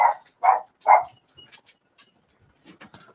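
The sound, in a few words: dog barking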